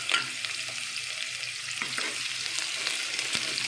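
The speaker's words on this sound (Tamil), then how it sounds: "இந்த பிரியாணியில் பட்டை ஏலக்காய் வெங்காயம் போட்டு வெங்காயம் நல்லா பொன் நிறத்தில் வர மாதிரி நல்லா ஃப்ரை பண்ணிக்கோங்க." Onions fry with cinnamon and cardamom in hot oil for kushka biryani, a steady close sizzle broken by brief scraping stirs of the spoon against the pan.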